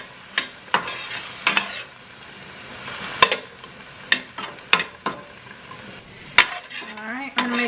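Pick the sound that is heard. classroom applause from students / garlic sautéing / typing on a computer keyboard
garlic sautéing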